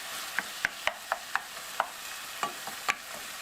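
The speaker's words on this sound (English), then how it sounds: "I turn it over and I scrape. And the parts that I scrape off are the ones that I start mashing down just like this." Ground beef being scraped and mashed in a pan with a utensil while it sizzles, a string of sharp scraping clicks at an uneven rhythm over a steady frying hiss, close by, with no talking.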